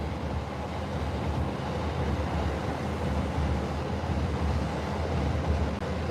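A Yamanote line commuter train rumbles past in Tokyo with a steady, loud broadband roar of wheels and wagons, continuous throughout with no talk.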